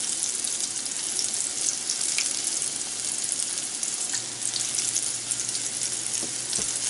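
Pieces of crappie fish frying in hot oil, giving a steady, close crackling sizzle with scattered pops throughout and no talking.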